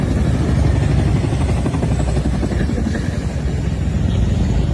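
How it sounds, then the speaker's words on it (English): A Chinook helicopter flies over during a night-time attack in Venezuela, its heavy, throbbing rotor wash loud and continuous throughout. "It's a Chinook."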